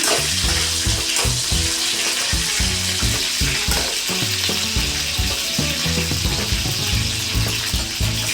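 Brinjal fries in oil in a pan with a loud, steady sizzle and bubbling, while repeated spatula knocks and scrapes on the pan keep up an uneven rhythm.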